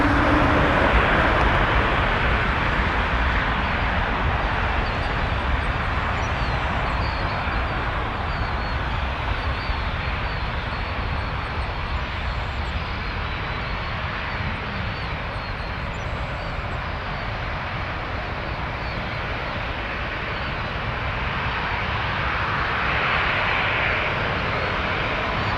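Jet airliner taking off at Toronto Pearson airport, a steady broad engine roar holding loud and even throughout, heard from a distance with no voices.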